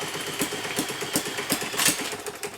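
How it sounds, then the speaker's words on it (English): A small metal 3D-printed gasoline engine, flooded with fuel, runs in a loud, rapid, regular pulsing rhythm of firing beats, close by and alone. "I connected it back up with gasoline in hopes that I can mess around with the throttle while the engine runs."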